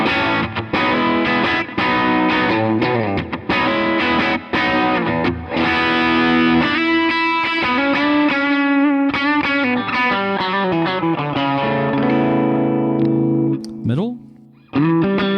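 Les Paul electric guitar played through its bridge pickup, heard as a loud, continuous run of distorted chords and notes with effects and reverb, ending in a bend and fade near the close.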